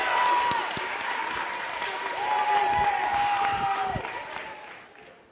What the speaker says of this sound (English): Give Ms. Reed a round of applause.